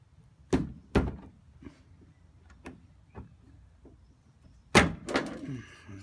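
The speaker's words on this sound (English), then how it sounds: "So just snap the top off with the chisel." A chisel snaps the plastic screw top off the bonnet lock of a Ford Focus Mk2, giving a few sharp, close cracks and knocks spread over several seconds, with a louder double snap near the end.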